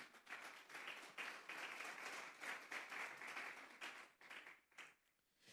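A church congregation applauding together, dense sustained clapping at an even level that thins and fades toward the end, heard from a distance.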